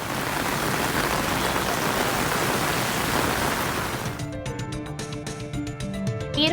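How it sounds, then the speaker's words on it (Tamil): Heavy rain pours in Tamil Nadu, a dense, steady roar of falling water that fills the whole scene, later joined by a faint musical tone beneath the downpour. "மின்னல் இடியோடு பலத்த மழை பெய்தது."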